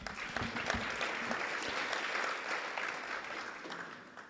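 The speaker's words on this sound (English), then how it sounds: "So I'd like to give them a round of applause" A crowd applauds county and city street workers at an evening event, a steady rush of clapping with a few sharp nearby claps early on, gradually thinning and fading out.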